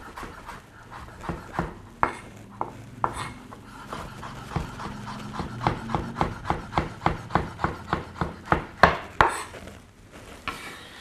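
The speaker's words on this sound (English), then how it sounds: "We'll just chop that up roughly." Knife chopping a sprig of herbs on a cutting board for Vietnamese rice paper rolls, with a steady run of close, sharp chops that speed up midway and a few kitchen clinks, no talking.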